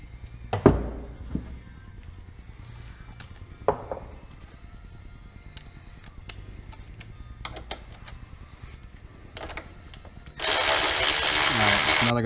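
Ratchet wrench loosening 12 mm bolts on a Honda Africa Twin motorcycle during a Touratech crash bar install: scattered short clicking bursts and clanks, fairly close, followed by a louder, steady hiss-like run near the end.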